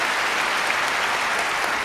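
Steady, dense applause from a crowd at a women's table tennis match, loud and continuous across the whole short stretch with no pauses or talk.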